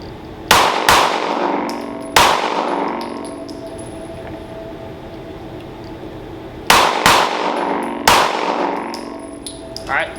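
Pistol shots on a training range, fired in two quick groups of three sharp cracks with a long pause between, each ringing out briefly.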